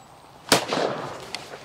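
A single loud shotgun blast from an ordinary off-the-shelf cartridge, fired outdoors, with a sharp crack followed by a short rolling echo.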